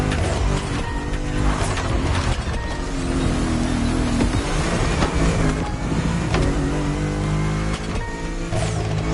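A BMW Z4 M40i roadster in The Crew Motorfest drives through the backcountry, its engine a loud, continuous drone with shifting pitch and road noise, steady throughout with no talk.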